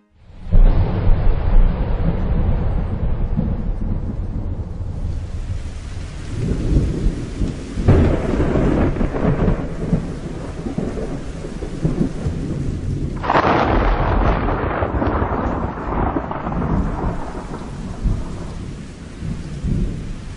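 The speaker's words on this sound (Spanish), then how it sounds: "el estruendo de una tormenta" A thunderstorm with heavy rain: deep rolling thunder rumbles in repeated waves over a continuous hiss of downpour, loud and close throughout.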